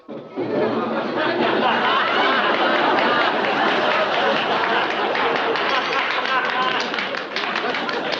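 Studio audience at a television awards ceremony applauds the standing nominees, a dense, steady wash of clapping mixed with crowd chatter and a few chuckles, sustained loudly throughout.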